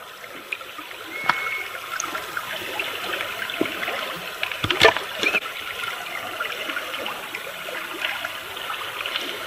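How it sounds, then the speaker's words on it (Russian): Lake water trickles and splashes into a mix of powdered milk and sugar outdoors, a steady close gurgle with a few sharper splashes midway and no talk. "Сейчас сюда водички, и будет у меня сгущеночка прямо из озера."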